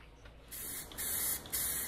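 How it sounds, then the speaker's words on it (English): Steady hissing bursts of a glossy spray paint can on a reclaimed plywood bookshelf, three long sprays with short pauses between, close and loud. "I moved on to a little bit glossier spray paint to give this thing a nice finished look"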